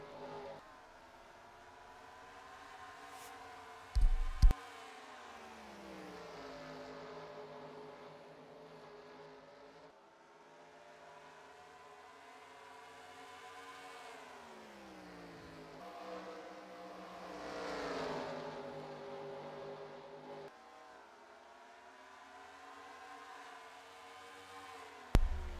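Stock cars in a NASCAR-style racing video game at North Wilkesboro drone steadily, engine pitch rising and falling as they lap the short track, with a couple of sharp clicks and no talking.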